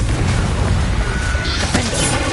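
In the Hogwarts Legacy video game, a Confringo blasting spell explodes with a dense booming burst that sits over continuous game noise and rumble. A sharp crackling flare near the end stands out above the steady background.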